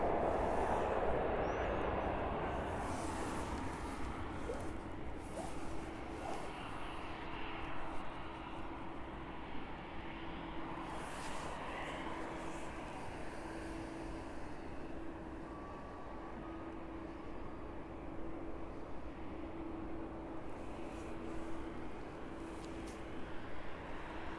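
A jet airliner coming in to land at East Midlands Airport at dusk, a steady broad roar held at a distance throughout with faint background noise and no talking.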